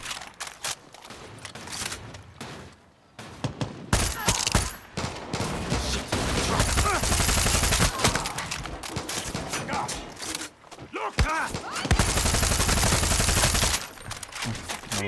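Bursts of gunfire from the video game Far Cry 6 come in loud, dense volleys with short pauses between them, and a faint voice can be heard in places.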